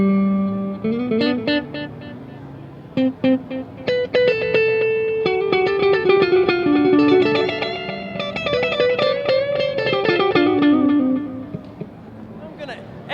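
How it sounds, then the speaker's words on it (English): Electric guitar played through an EarthQuaker Devices delay pedal on a simple delay setting, with clear melodic notes and phrases that repeat and trail off in echoes, loud and close throughout with no talking. "So I'm just going to start with a simple delay sound,"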